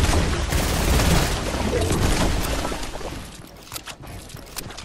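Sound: gunfire in a video game

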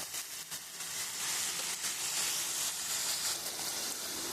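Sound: spices being fried in a pan for jackfruit egg curry

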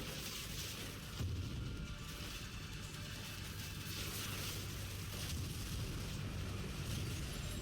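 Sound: explosion in a video game

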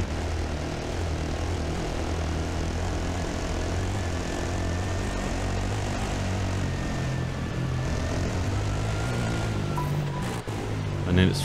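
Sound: helicopter flying overhead at desert rally

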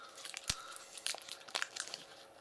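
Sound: opening a Funnbarr protein snack packet

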